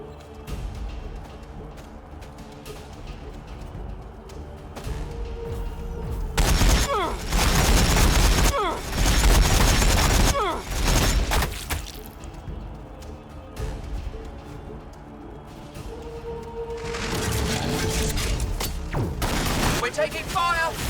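Bursts of heavy gunfire rattle through a Warhammer 40,000: Battlesector Sisters of Battle fight, swelling into loud volleys in the middle and again near the end over battle noise, with voices talking at times.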